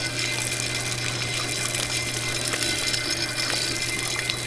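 A bleach pump on a pressure-washing rig draws rinse water through its valve, giving a steady, close mechanical hum with a low constant drone and faint splashy rattles, no voices.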